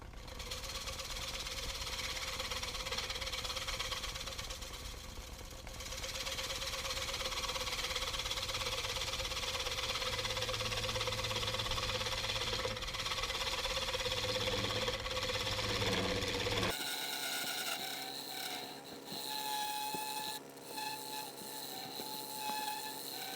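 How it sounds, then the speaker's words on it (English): A wood lathe spins a padauk and walnut bowl held in cold jaws while its bottom is turned, a faint steady motor hum with scraping tool noise that shifts in tone partway through. "Get her on the cold jaws and turn the bottom."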